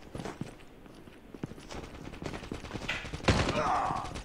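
In-game gunfire from Call of Duty Mobile, a burst of shots and clattering effects with a louder report near the end, while a voice talks quietly underneath.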